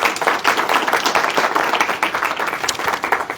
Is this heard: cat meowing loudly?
no